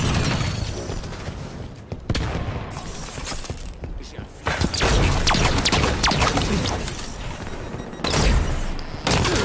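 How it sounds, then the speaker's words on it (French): A scoped assault rifle in Halo 5 rattles off bursts of gunfire mixed with crashes, booms and clattering game effects, loud and close throughout the busy multiplayer skirmish. "Fusil d'assaut avec viseur."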